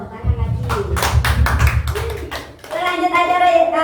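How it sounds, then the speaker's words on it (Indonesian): A class of students claps in applause during a school lesson, a dense burst of many hands lasting a few seconds and then easing off, with voices mixed in underneath. "Tepuk tangan lagi."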